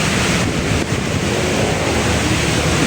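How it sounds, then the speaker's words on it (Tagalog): Strong wind roars steadily and loudly against the microphone outdoors, a dense, constant rush of noise. It may be mixed with surf or water. No voices are heard. "Ang grabe ang lakas ng hangin dun oh."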